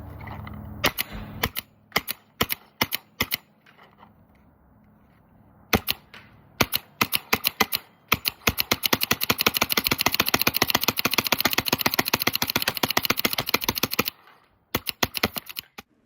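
A WGP Trilogy Autococker paintball marker firing outdoors in the cold, first a few spaced single shots, then a long rapid string of sharp snapping pops, close and loud, ending with a short final burst.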